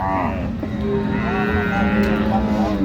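Dairy cows and calves of improved breeds low loudly at a busy rural cattle market in Dinajpur, with several drawn-out moos overlapping against a steady crowd murmur throughout.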